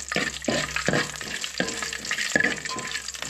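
Whole spices sauté lightly in a pan with a soft sizzle, punctuated by several rhythmic knocks and scrapes of a spoon stirring, with no voices.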